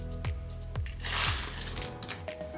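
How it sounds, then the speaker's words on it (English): Ice clinks and rattles into a rocks glass to top off a Coruba dark Jamaican rum Mai Tai, a brief clattering burst over steady background music. "Grab some more ice to top it off with."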